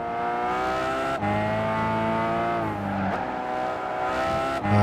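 Turbocharged race car in the Gran Turismo 5 video game heard from the chase camera, a loud steady engine drone with rising and falling revs and brief gear-shift dips, running continuously with no talk.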